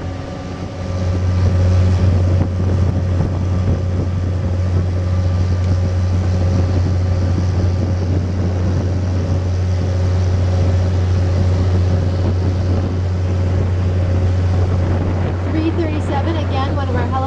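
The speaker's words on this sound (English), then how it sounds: "Going over to dock in the ferry terminal over there." A ferry moving in to dock at a ferry terminal drones with a deep steady engine hum and wind, continuous and fairly loud, with faint voices late on.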